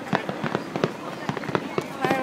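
July 4th fireworks popping and crackling in a rapid irregular series of sharp bursts, moderately distant, with voices talking at the same time.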